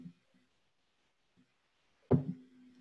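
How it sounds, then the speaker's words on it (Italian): A metal spring is flicked once, giving a sudden close twang that rings on as a steady humming tone. It comes after a couple of faint, soft handling sounds in near silence. "Questa è una molla."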